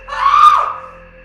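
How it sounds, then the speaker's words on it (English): A single drawn-out, otherworldly scream rises and fades over about a second in a midnight horror story, loud and piercing against a quiet background. "The scream tore through the silence again, closer this time, laced with an otherworldly desperation."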